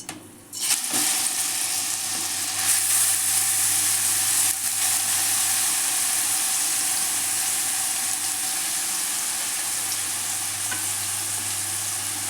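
Grated mango fried in ghee left from roasting cashews and almonds, a loud steady sizzle that starts abruptly and carries on with faint stirring scrapes, no speech.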